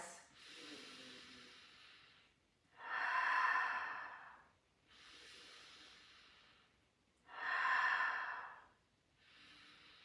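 Slow, deep breaths during a guided meditation class, two long swelling exhales rising and falling in a steady cycle with quieter inhales between, close and clear with no talking over them.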